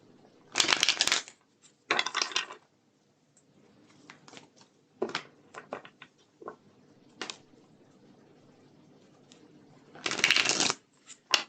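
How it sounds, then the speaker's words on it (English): Tarot cards are shuffled in several bursts: two loud riffling runs near the start, scattered softer card taps and slides through the middle, and another loud riffle near the end, all close and with no talking. "Let's do another shuffle here."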